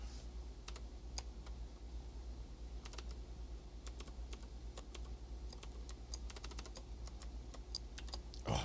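Steady typing on a computer keyboard, with crisp key clicks coming in bursts and runs over a low constant hum, close and fairly quiet, no voices.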